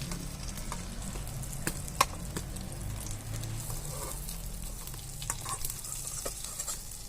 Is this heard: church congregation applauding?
no